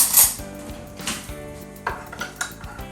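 A spoon stirs a yeast and sugar mixture in a bowl, producing a handful of light clinks and taps against the side, close and sparse, with no talking.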